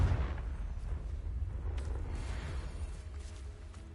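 A Confringo spell explosion in Hogwarts Legacy sets off a deep, rumbling blast that fades into a sustained low roar, with faint whooshing over the top.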